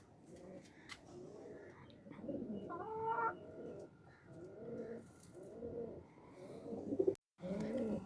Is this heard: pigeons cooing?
yes